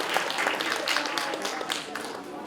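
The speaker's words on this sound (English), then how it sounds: "Please just clap for them." Audience applause filling a hall at a school event, a steady dense wash of many hands clapping with no clear gaps.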